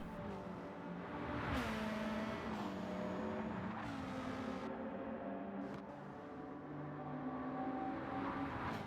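In Gran Turismo 7, the Amemiya Mazda RX7's rotary engine revs hard as it accelerates along the Nordschleife. A steady, buzzing drone rises in pitch, with quick shifts and passing cars, loud and continuous throughout.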